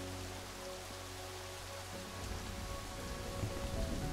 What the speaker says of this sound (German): ich hasse ja Regen.